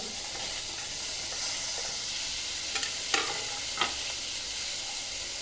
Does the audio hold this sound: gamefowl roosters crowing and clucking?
no